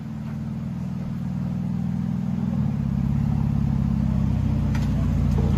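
A Toyota Tacoma TRD with a 3.5L V6 and aftermarket exhaust, reversing at low speed: a loud, deep, steady burbling drone that swells slightly midway and holds, with no one speaking.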